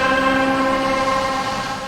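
UVI 'Metamorphosis', a creepy cinematic texture: a dense, sustained tonal drone with stacked humming layers and a faint hiss above, holding steady for about two seconds before easing slightly.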